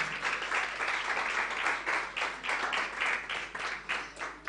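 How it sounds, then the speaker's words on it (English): An audience at a launch event for an African girls' initiative gives a round of applause, a fairly faint and distant patter of clapping that swells and fades in waves throughout. "Shall we welcome her with a resounding round of applause?"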